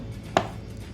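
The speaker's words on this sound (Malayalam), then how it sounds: "നമ്മൾ കട്ട് ചെയ്ത് വെച്ച ടൊമാറ്റോ നമ്മൾ സ്ലൈസും ചെയ്ത ചോപ്പും ചെയ്യാം" A single sharp knife stroke through a tomato hits the cutting board, one crisp close chop in an otherwise quiet kitchen during burger preparation.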